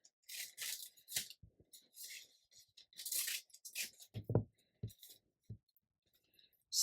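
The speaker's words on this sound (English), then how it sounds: "So what I will do is get my scissors and just cut" Scissors cutting paper for a scrapbook card, a series of short crisp snips and rustles with small clicks, close and quiet, with pauses between cuts.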